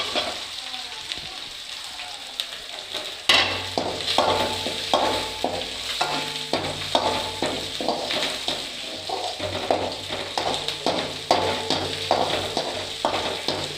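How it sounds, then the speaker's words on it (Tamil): Chopped onions hit the pan for chicken gravy, with a sudden burst of frying followed by steady sizzling and repeated scraping stirs at a close, even rhythm. "நம்ம சாப் பண்ணி வச்சுருக்க 10 வெங்காயத்தை போட்டுடலாம். இப்போ இது கோல்டன் கலர் அளவுக்கு கொஞ்ச நேரம் அது இப்படி கிண்டி விட்டுக்கலாம்."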